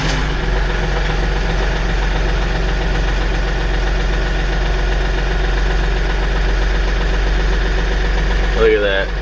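A tractor engine running at a steady idle after service, a loud continuous low rumble with an even knocking pulse, close by and unbroken through the clip.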